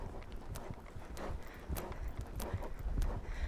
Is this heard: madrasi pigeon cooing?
no